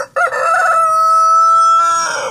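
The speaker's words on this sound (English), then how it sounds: "Rooster. Mr. Rooster." A rooster gives one loud, close crow lasting about two seconds, rising sharply then holding a strained, drawn-out note before tailing off, with no other sounds around it.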